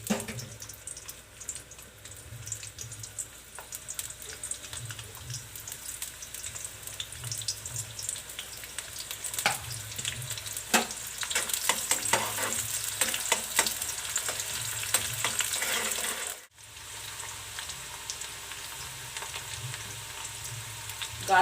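Chopped onion sizzling in hot oil in a pan for street-style veg Schezwan fried rice, a steady close frying crackle running throughout with occasional clinks of stirring.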